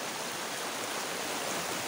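Clear stream water flows in a steady, dense rushing hiss, close and continuous, with no voices over it.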